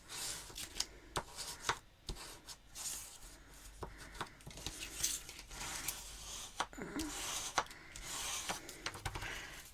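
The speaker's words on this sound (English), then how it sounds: "So fold those down, give them a good pinch" Paper folds and creases by hand while making a gift bag, with crisp rustles, sharp pinching snaps and rubbing taps coming in quick irregular bursts close by and quiet.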